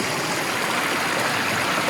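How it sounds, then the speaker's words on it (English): A mountain creek below the Willow Pass and Buckskin Pass fork on Colorado's Maroon Bells Four Pass Loop, with a steady, close, full rush of flowing water throughout. "you'll find this really nice creek"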